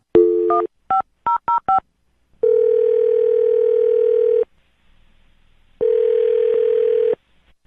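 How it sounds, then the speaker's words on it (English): A phone number punched in as a quick run of touch-tone beeps, then a long steady ringback tone, a pause, and a second ring. "I'll call him right now, see if we can get him on the phone"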